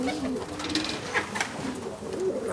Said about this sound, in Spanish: Ahí tienen una pichona que no ha cumplido todavía los 5 meses.